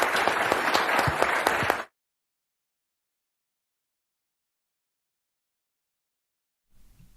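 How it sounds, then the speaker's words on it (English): Conference audience applause bursts out loud and dense for under two seconds, then cuts to complete silence, with a faint low rumble returning at the very end. "Round of applause."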